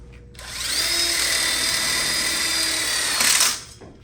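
A power drill drives a screw into a drop-down burner module for an outdoor kitchen, one loud whirring run of about three seconds that spins up, holds steady, then rises briefly and stops close by.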